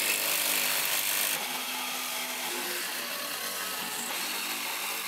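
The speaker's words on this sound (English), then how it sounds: "using a reciprocating saw to cut slots and try to break the sleeve out" Reciprocating saw cutting slots into a steel axle sleeve of DOM tubing, a loud continuous buzzing rasp that runs steadily throughout with a slight change in tone partway.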